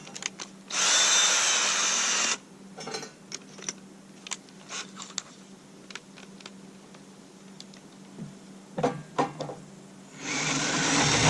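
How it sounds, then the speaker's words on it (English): A power drill drilling out a broken-off bit runs in two bursts, one near the start and one at the end, separated by scattered clicks and metal taps. "if we drill it out larger than what we broke off"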